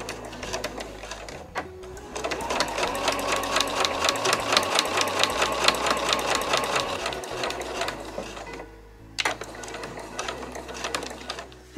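A sewing machine stitches the pocket of a fur drop tote bag, running as a fast, even mechanical rattle for several seconds. It pauses briefly, then resumes, close and clear, with only faint handling noise between runs.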